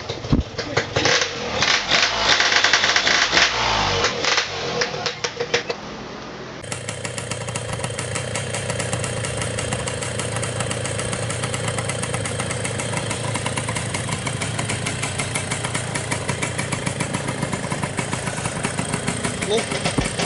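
Yamaha RX King motorcycle engine idling at an outdoor sale, first a rough bout of revving and knocking, then a steady close idle that continues to the end. Voices are heard over the engine.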